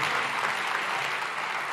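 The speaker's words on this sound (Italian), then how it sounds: "fate un grande applauso a voi stessi" Audience applause at a live concert in Rome, a dense, steady wash of clapping that holds evenly from start to end without a break.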